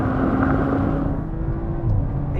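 BMW M340i and Audi RS4 accelerating hard side by side in a rolling race from 50 mph, a steady loud engine roar and road drone with a rising tone throughout.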